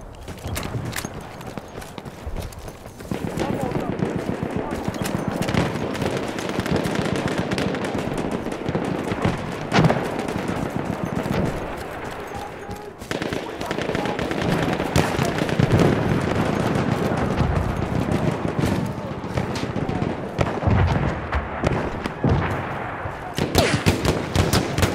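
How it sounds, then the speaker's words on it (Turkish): Sustained machine gun fire in Battlefield 1, dense rapid bursts with loud close shots and short pauses, running almost without a break through a noisy wartime battlefield. "Orada bir makinalı tüfek var."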